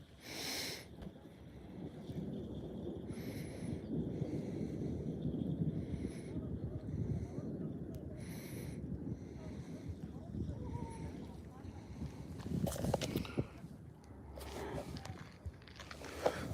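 Wind buffets a fishing boat during a thunderstorm, a steady rough rumble against the microphone with water and hull noise, and someone talks intermittently over it.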